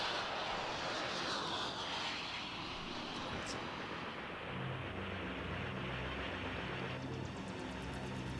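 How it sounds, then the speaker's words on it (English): Helicopter engines drone with a steady, mid-level rumble and a faint whine, holding constant over several seconds with a slight shift in tone partway through. "Helicopters."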